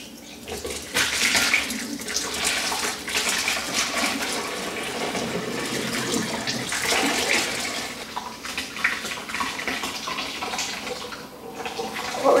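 A steady, continuous gush of curds and whey pouring and draining into a buttered muslin-lined strainer, sustained for several seconds with no talking.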